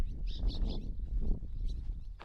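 Small birds chirp in short bursts inside old stone and brick fort barracks, near and fairly clear over low rumbling background noise.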